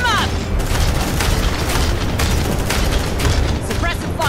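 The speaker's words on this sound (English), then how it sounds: "Suppressive fire." Sustained suppressive gunfire from squad weapons in the Aliens: Dark Descent video game: a dense, loud, continuous stream of rapid shots and booming bursts across the whole stretch, with voices mixed in.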